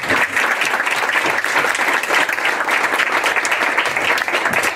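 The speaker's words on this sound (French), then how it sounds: "Et je vous applaudis, j'espère que vous vous joignez à moi." Dense, steady applause from an audience at a talk, many hands clapping continuously and loudly without letup.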